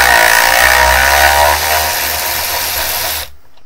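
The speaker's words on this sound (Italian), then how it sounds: "proviamo a svitare questa vite utilizzando direttamente il motore" Parkside PAR 12 A1 12V cordless ratchet driver unscrewing a screw, a loud close high-pitched motor whine that runs steadily, drops in pitch midway, then cuts off abruptly near the end.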